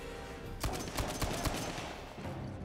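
Uncharted 4 gunfire, a short burst of several sharp shots cracking in quick succession near the middle, followed by quieter background noise.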